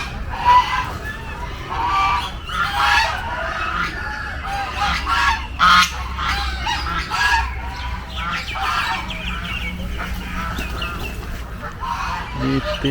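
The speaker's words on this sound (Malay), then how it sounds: "Ini orang panggil ayam piru tapi orang panggil ayam Belanda" Turkeys calling at an agricultural park, with repeated honking, gobbling cries mixed with clucking poultry nearby, over a steady background of farmyard noise.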